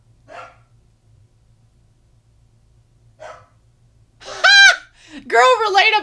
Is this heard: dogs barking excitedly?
yes